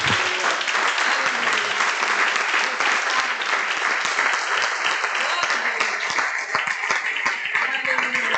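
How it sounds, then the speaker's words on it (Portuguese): A church congregation claps together in steady, sustained applause, loud and even throughout, with voices faintly mixed in. "Vamos aplaudir ao Rei Jesus."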